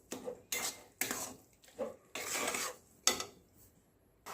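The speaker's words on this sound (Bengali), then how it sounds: "এটাকে আমি ক্রমাগত এরকম নাড়িয়ে যাবো, নয়তো নিচে লেগে যেতে পারে।" Coconut sandesh mixture being stirred in a wok: a metal spoon scrapes and clinks against the pan in repeated strokes about every half second, close and fairly quiet, with no talk.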